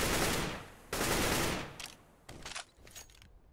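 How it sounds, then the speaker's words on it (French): Gunfire in a Counter-Strike match with M4 rifles: bursts of rapid automatic fire, two sustained volleys followed by shorter, fainter bursts, fairly quiet overall. "Et Gobi hein, qui va tomber sous les balles de Apex."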